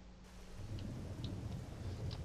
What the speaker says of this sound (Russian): дождь пройдет, нет сегодня